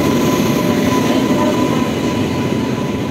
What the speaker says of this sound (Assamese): বহু অপেক্ষাৰ অন্তত ট্ৰেইন আহি পালে